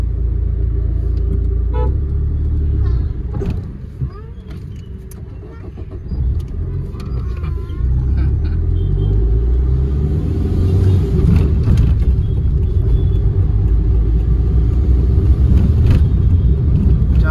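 A traffic jam at a crowded road junction, with steady, loud engine rumble from cars and vehicles idling and creeping along, and an occasional short horn toot rising from the dense traffic noise.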